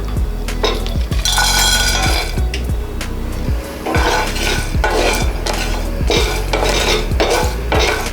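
Whole garam masala spices dry-roasted in a pan for fish biryani, a spatula scraping and clinking rhythmically against the metal in loud, repeated strokes over a faint sizzle.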